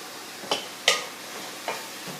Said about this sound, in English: Hear the simmer going down?